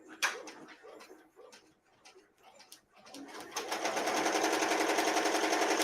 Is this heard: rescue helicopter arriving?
no